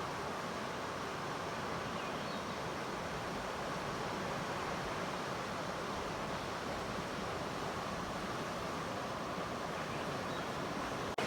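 A small waterfall's steady rush of flowing water pours continuously, a constant close hiss and roar with no breaks.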